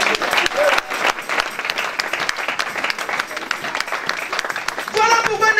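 A church congregation breaks into applause, dense clapping running throughout with voices mixed in and cheering rising near the end.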